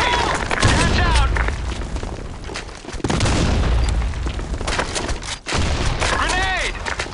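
Grenade explosions and gunfire in a Sandstorm match, with heavy booms and loud blasts repeating across several seconds while voices shout over the din.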